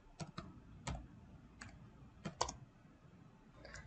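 Computer keyboard keys are tapped in short, separate clicks while a table title is typed in AutoCAD, with a few spaced keystrokes close and fairly quiet.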